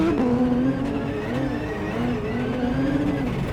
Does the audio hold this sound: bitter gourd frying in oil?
no